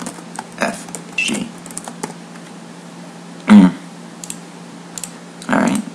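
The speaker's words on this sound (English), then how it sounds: "I'm going to type an A, B, C, D, E, F, G." A computer keyboard being typed on as letters are entered one after another in a font-creation tutorial, sparse close clicks and keystrokes at uneven intervals with occasional louder taps.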